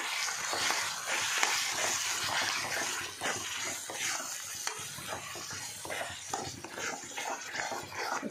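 A spoon stirs yogurt into a sizzling mutton curry in a pan, giving continuous frying hiss with soft, irregular scraping strokes close by.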